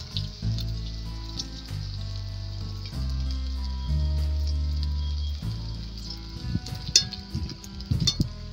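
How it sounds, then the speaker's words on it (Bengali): Rajasthani flour snacks fry in hot oil in a kadai, giving a soft sizzle that turns into sharper crackles and pops toward the end, with no talking. "এইভাবে আমি বাকিগুলো ভেজে নিচ্ছি"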